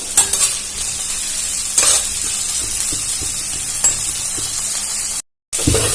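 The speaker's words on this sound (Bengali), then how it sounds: "আর দিয়ে দেব পেঁয়াজ কুচি আর লঙ্কা কুচি। একটু নাড়াচাড়া করে ভেজে নেব।" Chopped onion and green chili fry in hot oil with cumin seeds, giving a loud continuous sizzle up close, punctuated by a few spatula scrapes and taps as the mixture is stirred, with a brief dropout near the end.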